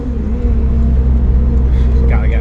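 A 2016 Subaru WRX fitted with a Grimmspeed catted J-pipe and Greddy SP exhaust rumbles steadily and loudly at close range, its low engine drone continuous throughout.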